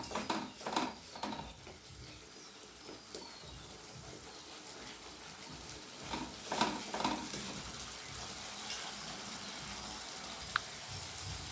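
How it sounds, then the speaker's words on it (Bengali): Spice paste ground with melon seeds fries in oil in a home kitchen as an eggplant dish is cooked, with a soft, steady sizzle and occasional stirring scrapes, fairly quiet and without talk. "দিয়ে সবগুলো আমি খুব সুন্দর করে একটু কষিয়ে নেব।"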